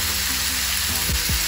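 Chicken searing in a pan makes a loud, close, steady sizzle. Low bumps of movement from the pan come through under the hiss.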